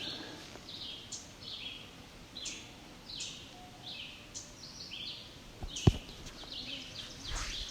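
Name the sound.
ovenbird song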